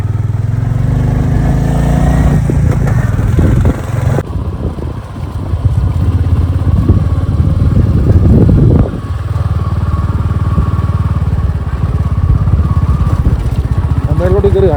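A motorcycle on an all-India ride climbs a broken, rough mountain road toward the Razang La memorial. The engine drones and revs loudly close up, with a dip and a rise partway through, and talk mixed in at moments.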